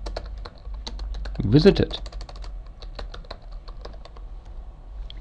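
Computer keyboard typing while entering a name in ArcGIS Desktop, a steady run of close, crisp key clicks with a brief louder flurry, under a voice speaking.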